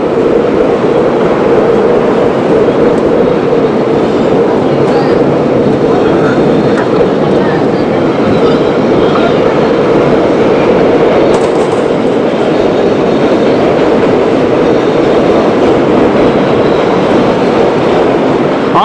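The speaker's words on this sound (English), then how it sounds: "on the left side of the picture, you'll see the heavy third rail that's powering our train" A New York subway train of the 1970s to 1990s runs on third-rail power, giving a loud, continuous rumble with rail clatter and wheel noise that holds steady throughout, with no talk.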